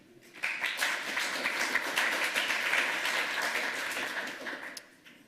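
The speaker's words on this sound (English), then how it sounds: "give him a round of applause for dealing with my screw up for that one" Audience applause at a lightning talks session of a hacker conference, a dense steady burst of many hands clapping that swells quickly, holds for about four seconds and fades out near the end.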